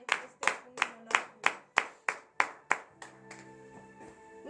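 A church congregation at morning prayer in Benin claps in unison to acclaim God, about nine loud, sharp rhythmic claps, followed by sustained keyboard chords as the clapping stops.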